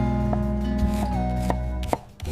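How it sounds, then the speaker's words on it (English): A knife chops vegetables for a stew in a few distinct strokes, heard up close over a steady background of music-like tones, with no one talking. "Precision chopping for tonight's stew."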